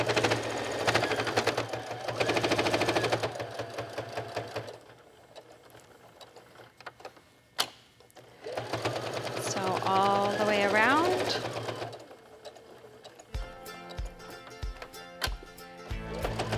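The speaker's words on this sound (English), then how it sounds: "you'll want to make sure that you get your wallet perfectly straight before you sew it" A sewing machine stitches a fabric wallet, its motor running under a person talking, followed near the end by a short run of rhythmic mechanical clicks.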